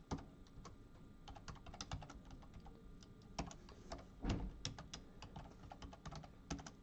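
Computer keyboard typing while Arduino code is entered, quick irregular clicky keystrokes in short bursts with brief pauses, close and fairly quiet with no talk.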